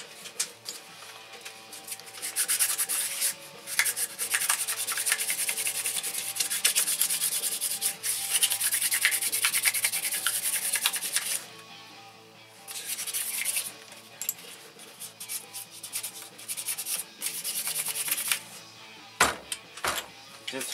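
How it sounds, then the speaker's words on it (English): A 16 or 18 hp Briggs and Stratton opposed-twin carburetor being sanded by hand with 3000 grit 3M sandpaper, a close, continuous scratchy rubbing in back-and-forth strokes with a brief pause midway and a few sharp knocks near the end. "Take some 2000 grit sandpaper. There you go, 3M. They don't really say, but it's 3000 grit."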